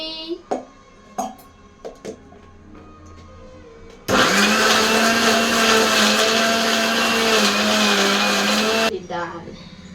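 A mixer grinder whirs loudly and steadily for about five seconds while grinding a bunch of coriander into a green paste for biryani. Light clattering and brief talk come before it, and the motor winds down at the end.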